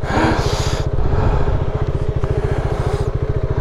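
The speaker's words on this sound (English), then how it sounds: "I'm definitely taking this bike back down." A motorcycle ridden on a rough trail, its engine chugging in a fast, steady pulse close to the microphone, with scrapes and clatter over the ground.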